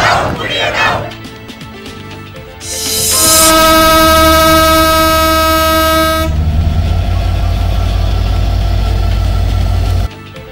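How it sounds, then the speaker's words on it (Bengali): Intercity passenger train in Bangladesh: crowd voices at first, then a long loud two-tone horn blast followed by the heavy rumbling roll of the train passing close by. "প্রায় 1 মাস পর আন্তনগর ট্রেন চলাচল শুরু,"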